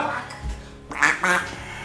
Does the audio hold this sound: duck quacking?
yes